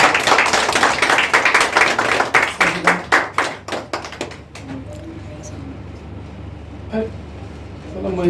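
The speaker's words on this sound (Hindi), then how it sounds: "और एक बार जोरदार तालियां होनी चाहिए" An audience bursts into loud clapping at a community gathering in Mumbai, thinning into scattered claps over about four seconds, followed by quieter room murmur and a voice.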